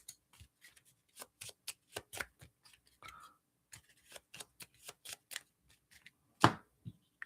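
Marvel Champions game cards being shuffled by hand, a run of quick crisp riffles and taps close by, with one louder slap near the end and no talk.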